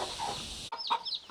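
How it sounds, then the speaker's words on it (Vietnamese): A mother hen with her just-hatched brood of chicks clucks and peeps nearby, a few short calls breaking out after a stretch of low rustling background noise. "cả gà mẹ và gà con luôn"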